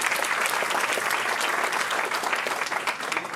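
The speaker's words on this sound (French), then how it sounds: "on peut leur réserver un tonnerre d'applaudissements" An audience at a sports-technology evening event gives the organizing team a warm round of applause, a steady, fairly distant wash of many hands clapping with no voices standing out.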